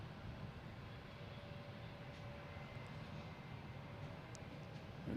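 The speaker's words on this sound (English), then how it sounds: "Dash 8, flight" A PAL Airlines Dash 8 turboprop arriving from Halifax at Boston Logan hums steadily at a distance, a faint, even engine drone with a thin tonal whine, no talk over it.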